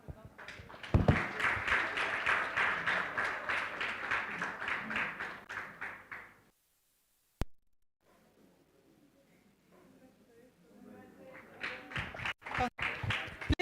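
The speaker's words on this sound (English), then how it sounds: "Let's give them a round of applause." Audience applauding at a moot court competition ceremony, rapid rhythmic clapping for about six seconds that stops abruptly, a quiet stretch with a single sharp tap and faint voices, then clapping and taps picking up again.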